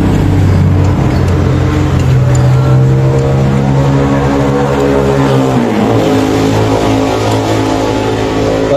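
A Mitsubishi Pajero Gen 2 with the 4M40 diesel engine runs loud and close after a thermostat housing replacement, idling steadily with rising and falling revs and a brief dip in pitch midway, no voices.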